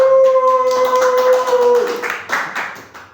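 A university classroom breaks into applause after a Qur'an recitation practice, a brief burst of clapping from a group that rises, then tapers off over about three seconds.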